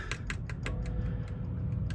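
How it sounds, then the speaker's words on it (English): Light rapid tapping of fingers on the metal exhaust pipe of a Pontiac Trans Am, a quick series of small ticks fading over a steady low hum. "That's just my fingers against the exhaust."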